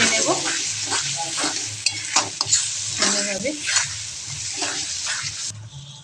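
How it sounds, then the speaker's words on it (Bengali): Masala with salt is stirred and fried in a pan, giving a sizzling hiss broken by repeated scraping strokes of a spoon, close and fairly loud. "নুনটা দিয়ে ভালো করে কষিয়ে নেব সুন্দরভাবে"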